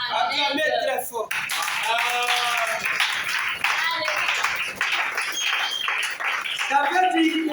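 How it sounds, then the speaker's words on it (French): A church congregation breaks into loud, sustained applause and clapping, with voices calling out over it throughout. "Acclamez très fort"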